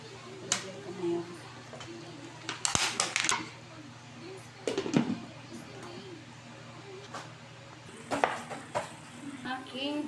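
Shrimp cook in butter and garlic after Sprite is poured in, with a soft, steady sizzle under scraping and clinking of a utensil against the pan. A voice talks at times.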